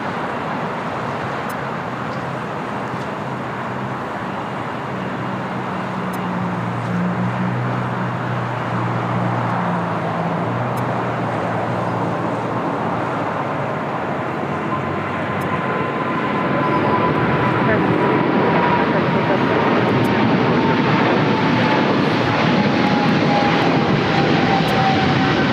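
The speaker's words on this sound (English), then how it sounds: "Is Air France flight 23 taking off to Paris on a 777-300ER." An Air France Boeing 777-300ER jet takes off from LAX, a broad engine roar that builds steadily, with a low rumble early on and a rising, then falling high whine as the aircraft passes and climbs away.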